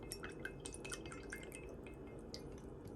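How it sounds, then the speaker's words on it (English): A spoon stirs a little water and leftover gel in a cup, making faint, close, quick clinks and small liquid drips against the cup over a low background hum; no talking. "I'm going to add a little water to this cup here just to rinse, make sure I get all of that gel out. And I'm just going to stir that together"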